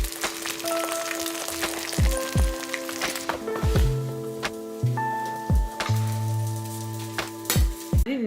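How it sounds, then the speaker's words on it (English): Eggs fry in a very hot pan, a light crackling sizzle under a series of sharp knocks and scrapes of a utensil against the pan, with some ringing tones. "let me hurry up and make my eggs before I start burning the pan"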